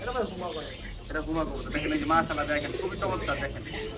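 Soft, low pigeon coos repeat in short murmuring phrases, mixed with faint chirps and background movement at close range, in a pet bird shop in Bangladesh.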